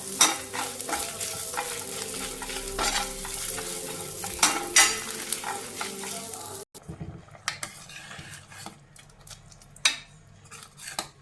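Grated coconut and spices frying in a pan on low heat for a pumpkin paruppu kozhambu, with steady sizzling and repeated scraping stirs and clinks of a utensil on the pan, dropping to a quieter sizzle partway through.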